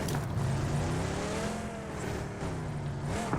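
A vehicle in the PUBG video game approaches with a steady engine drone that rises slightly in pitch, continuous and fairly close throughout.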